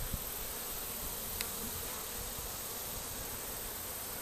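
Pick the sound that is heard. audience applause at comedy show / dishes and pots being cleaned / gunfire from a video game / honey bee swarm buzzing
honey bee swarm buzzing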